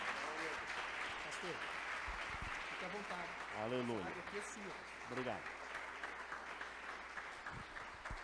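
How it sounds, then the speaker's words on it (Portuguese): Church congregation at a worship service gives steady, full applause throughout, while someone speaks briefly over the clapping. "eu queria que você recebesse o homem de Deus com uma forte salva de palmas para Jesus"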